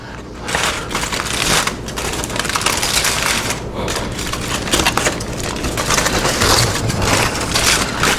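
Pecan-smoked pork ribs from an Ugly Drum Smoker being unwrapped after resting, with loud, continuous crinkling and rustling of wrapping close up and no talking.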